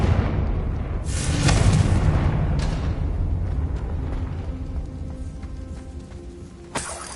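Confringo explosive spell in Hogwarts Legacy, heavy booming blasts with a loud burst early, another hit soon after and a sharp final impact near the end.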